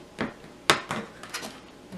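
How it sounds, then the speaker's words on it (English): A knife chops chocolate on a wooden cutting board: a few scattered, uneven knocks, one sharper and louder than the rest, close by in a quiet kitchen. "I'm using a wooden cutting board for this. That's what I like to use when I'm chopping up chocolate."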